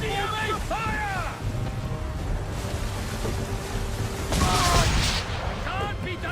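Ship swivel guns fire during a naval battle in the video game Assassin's Creed III, a rumbling volley heard under shouting crew voices, creaking rigging, wind and waves, with the loudest burst near the end.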